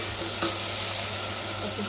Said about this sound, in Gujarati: તો અહીંયા જો મસ્ત શાક વઘારી દીધું છે